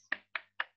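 Three sharp, evenly spaced claps ring out in a steady rhythm, crisp and close, with short gaps of silence between them.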